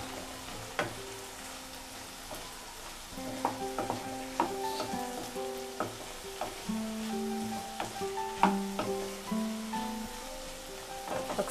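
A bottle gourd curry, aanapakaya challa koora, is stirred in a pan, giving soft sizzling and occasional spoon scrapes and clinks under steady background music.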